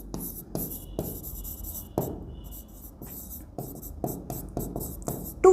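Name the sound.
writing an accounting entry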